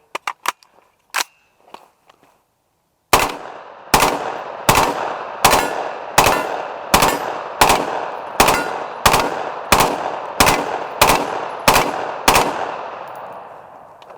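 A full magazine of rifle shots fired one by one at AR550 steel Level III+ body armor, about a dozen loud, evenly spaced cracks with ringing tails, preceded by a few fainter pops.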